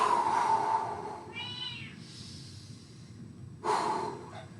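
A cat gives a short, soft meow right after waking, faint and fairly close in a quiet room, with some breathing and shuffling around it and a rustle near the end.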